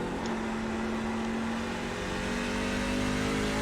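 A NASCAR Class C truck engine in the iRacing sim holds a steady, loud drone with a sustained low tone, running continuously near and close under throttle with no pause.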